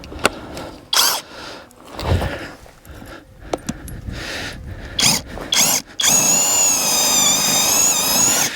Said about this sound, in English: let's see what happens with the impact drill